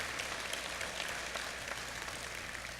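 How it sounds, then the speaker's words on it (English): Audience at an evening award ceremony claps in a faint, distant, continuous patter of many hands, steady with no voices over it. "Let's give them all a round of applause"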